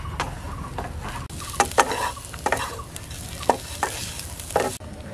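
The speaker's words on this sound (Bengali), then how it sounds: "খাকরোল পাতাটা আমার ভাজা হয়ে গেছে" Kharkol leaves fry in a pan with a steady sizzle, stirred repeatedly so that sharp scraping and tossing strokes cut through the crackle at close range.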